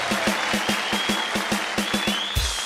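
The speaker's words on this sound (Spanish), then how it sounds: "Un aplauso para él, hombre." A studio audience on a Colombian television show claps for footballer Mario Alberto Yepes in slow, unison rhythmic beats, about a dozen firm claps, with a low thud near the end.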